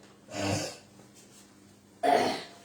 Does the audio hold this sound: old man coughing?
yes